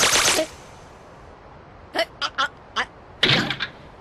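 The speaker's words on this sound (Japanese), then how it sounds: "回転ドア。" A revolving door sound effect in a Touhou MMD animation: a loud whoosh opens, then a pause and a series of short, sharp thunks and clatters, ending in a heavier burst of knocks.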